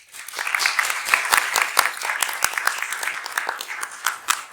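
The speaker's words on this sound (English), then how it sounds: "So please help us welcoming him with an applause." An audience claps to welcome a speaker at a college lecture event, a lively spread of individual claps rising quickly and holding steady, fairly near and distinct.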